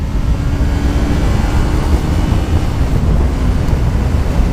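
Loud, rough wind roar buffeting the microphone on a motorcycle at about 120 km/h, a continuous low rumble with no letup.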